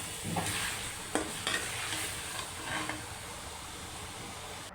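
Chopped, peeled tomatoes go into chicken karahi frying in a pan, bringing a steady, quiet sizzle and hiss with a few soft stirring scrapes and clinks of the spoon.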